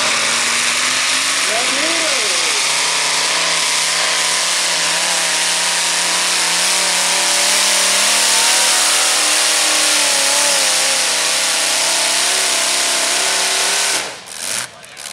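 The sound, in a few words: tractor pull engine revving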